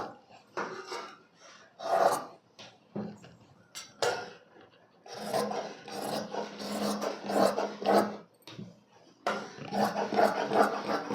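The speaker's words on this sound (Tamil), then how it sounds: "இப்போ நான் ரவுண்ட் நெக் அப்படியே கட் பண்ணிக்கிறேன்." Scissors cut a round neckline through blouse fabric up close, making rasping, crunching snips in uneven bursts with short pauses between strokes.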